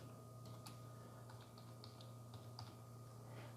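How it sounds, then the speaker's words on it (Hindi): Faint, irregular key clicks of someone entering a password on a computer keyboard, several scattered taps over a steady low electrical hum in a quiet room. "यहाँ पर दोबारा पासवर्ड टाइप कर रहा हूँ"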